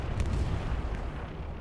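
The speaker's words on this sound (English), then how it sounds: "Explosion, but not the tank." A deep explosion rumbles in the Hell Let Loose war game during a competitive tournament match, with a heavy low-frequency boom at the start that rolls out and slowly fades.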